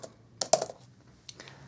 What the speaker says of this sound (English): I can easily type 70 words a minute on this keyboard here